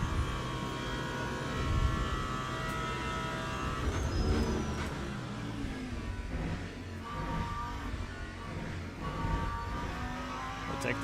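Racing cars in the Le Mans Ultimate video game, including an LMP3 prototype, produce a steady engine drone with shifting revs and hum, fairly quiet and continuous with no talk.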